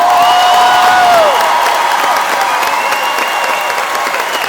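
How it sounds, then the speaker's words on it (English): Applause and cheering from a concert audience for a ten-member a cappella group on stage, a dense, loud wall of clapping with whistles and shouts on top, easing slightly but continuing throughout. "We appreciate the applause"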